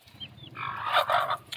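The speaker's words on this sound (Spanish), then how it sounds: "Las gallinas, son tres gallinas." Chickens at a backyard home cluck softly, with a couple of faint chirps followed by a brief louder burst of clucking close by.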